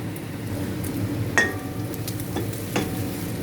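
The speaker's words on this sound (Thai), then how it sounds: "คั่วแห้งๆอย่างนี้เลยนะคะ จนน้ำมันมันออกมาเลยนะคะ" Chinese sausage dry-stir-fried over low heat in a pan until its fat renders, with a steady soft sizzle and scattered light clinks of the utensil against the pan.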